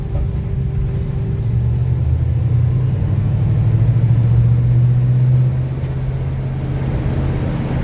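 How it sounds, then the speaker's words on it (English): Engine of an old Chevy C10 pickup truck running steadily while driving, a continuous low rumble that swells slightly in the middle and then settles, heard from inside the cab with no talking. "Just kind of letting the engine run a little."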